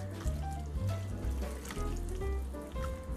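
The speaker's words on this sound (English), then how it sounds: "So I have my warm water here," Warm water splashes and trickles steadily into a bowl of cornmeal, a continuous liquid pour with low gurgling underneath and no talking.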